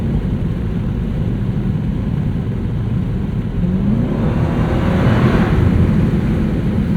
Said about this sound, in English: Let's try and get some exhaust noise here under this bridge.